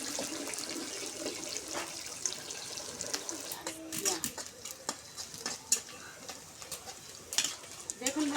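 Onion and green chillies fry in a hot pan, giving a soft, continuous sizzle broken by scraping stirs and clinks. The bursts come irregularly and grow louder toward the end, with faint voices in the background.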